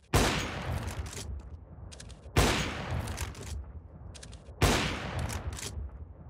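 Three bursts of rapid automatic gunfire ring out loud and close in Counter-Strike: Global Offensive, each volley lasting about two seconds with brief gaps between, and no voices.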